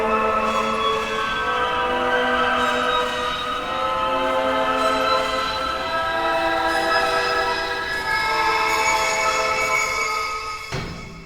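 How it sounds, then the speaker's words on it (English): Two synthesizer pads from a film cue sustain together in a dense, loud, continuous wash of tones with slowly shifting harmonies, ending in a brief drop near the close. "Let's listen to these two pads together."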